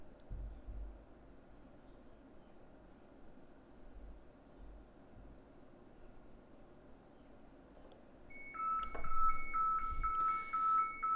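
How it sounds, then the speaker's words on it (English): After a low steady hum, a DSC marine radio distress alert alarm starts: a repeating two-tone beeping pattern, clear and steady, continuing to the end. "So here's our distress alert received. Bells are ringing and lights are flashing."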